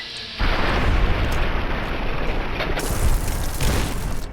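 A video game ballistic fist attack sets off a loud explosion that begins abruptly and rolls on as a sustained, heavy, booming rumble for several seconds, with no talking.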